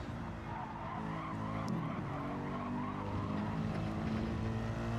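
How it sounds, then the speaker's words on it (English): A race car brakes hard into a corner at Spa in a racing video game, with continuous engine roar, a tire skid midway and steady engine tone under faint commentary. "heavy braking under the sign there"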